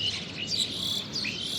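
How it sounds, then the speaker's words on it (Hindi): Flock of birds chirps in the morning near a village with waterfalls and mountains outside Dehradun, dense overlapping high tweets and calls steady throughout, fairly loud with no talk. "ये देखो भाई कितनी आवाज़ आ रही है चिड़ियाओं की"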